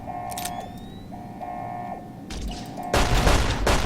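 Pistol loaded with armor-piercing rounds fired in Fallout: New Vegas, a few sharp shots with the loudest burst near the end over steady game background noise.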